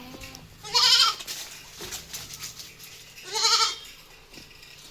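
Goats bleating at a livestock market where goats, cows and buffaloes are sold, two loud close bleats a few seconds apart over a quiet background of faint market noise.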